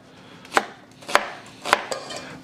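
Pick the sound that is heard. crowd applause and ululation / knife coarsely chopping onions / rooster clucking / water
knife coarsely chopping onions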